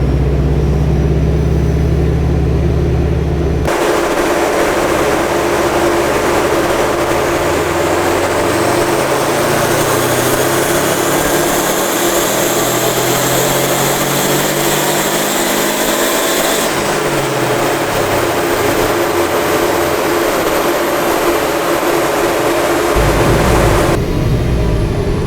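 A stage 1 tuned bugeye Subaru Impreza WRX roars loudly on a dyno in third gear. It holds steady near 2000 rpm, then climbs in pitch through a long full-throttle pull before easing back down.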